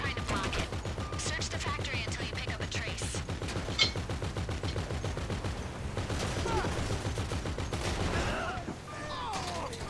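Sustained rapid automatic gunfire from GTA V during a special vehicle mission rattles on in dense, continuous bursts through the whole stretch.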